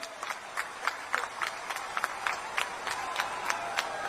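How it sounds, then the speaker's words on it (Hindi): An audience at a political rally claps in irregular sharp bursts to welcome Rahul Gandhi onto the stage, the applause thin and scattered rather than a dense roar. "एक बार जोरदार ताली बजाकर उनका स्वागत करें"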